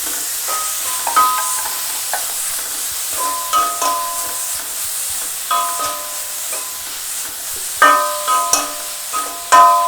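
Grated chicken goes into a hot pan for a spring roll filling and is stirred. It makes a steady sizzle with repeated scraping and clattering strokes of the spoon against the pan, and no talking.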